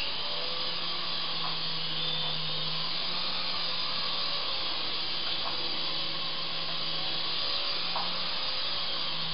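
Small Apache R/C helicopter flying indoors in an apartment, giving a steady high-pitched electric motor and rotor whine that holds constant and close throughout, with slight pitch shifts as it maneuvers.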